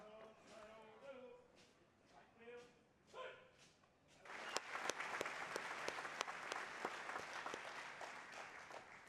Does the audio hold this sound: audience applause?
yes